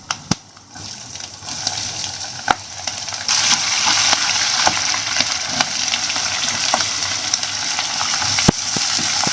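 Peanuts and green chillies tempering in hot oil for udalu millet chitranna, a steady loud sizzle that swells after the first few seconds, with a few sharp pops and spatters breaking through.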